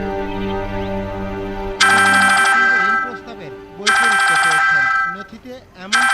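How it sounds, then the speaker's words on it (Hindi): A telephone ringtone plays in repeated electronic bursts, loud and close, in an Indian TV serial scene, with a person talking in Hindi over the gaps and some background voices. "ईश्वरी जी का फोन।"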